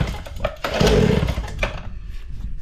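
A kids' 4-wheeler engine sputters and catches after choking and a few throttle pumps, giving a rough, loud, uneven roar that surges and then settles into a ragged idle.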